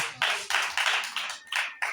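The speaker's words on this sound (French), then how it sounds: "Applaudissez pour le Seigneur." A church congregation claps in praise at a worship service. About eight crisp, evenly spaced claps come in a brisk rhythm, close and clear, with no voices.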